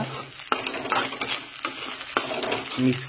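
Leftover cooked rice is stirred and mixed in a pan with oil, with a soft frying hiss under repeated sharp clinks and scrapes of a spoon against metal, close by and without speech.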